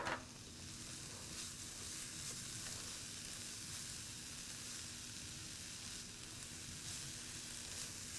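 Cabbage wilts in a pan on a stove, giving a steady, soft sizzle and frying hiss that stays even throughout with no talking.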